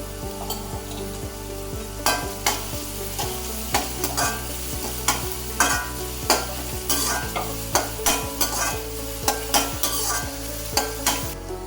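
Onions sizzling and sautéing in a frying pan, with repeated sharp scrapes and clinks of a spatula stirring at a steady, uneven rhythm, close and clear with no voices.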